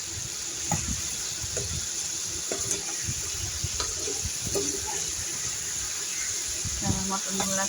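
Pieces of mutton being turned in hot oil, giving a soft steady sizzle punctuated by clinks and scrapes of a utensil against the pan, with no one talking.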